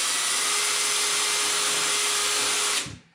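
A power drill with a sharp bit boring holes during fall maintenance of a Columbia 13 HP snowblower, a loud steady high whine running continuously before spinning down and stopping near the end.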